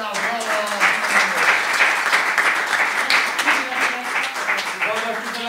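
An audience applauds steadily at a live steeldrum clinic held in a music shop in Rutigliano, with a dense wash of clapping over some background voices.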